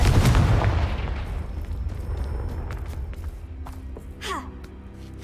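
Confringo blasting spell cast in Hogwarts Legacy: a loud fiery explosion burst at the start that decays over a couple of seconds, followed by faint scattered effects and a brief whooshing sparkle near the end.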